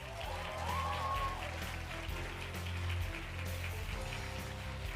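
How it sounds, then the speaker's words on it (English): Audience applause at an awards ceremony for a young award winner, a steady, moderately distant patter of many hands clapping that holds evenly throughout, with a faint tonal sound near the start. "Give Tyler a big round of applause"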